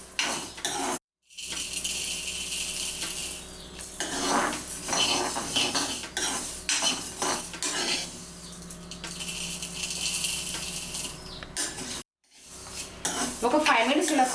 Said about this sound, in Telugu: చూడండి, ధనియాలు మిగిలిన దినుసు అన్నీ ఎలా చిటపటమంటూ సౌండ్లు వస్తున్నాయో.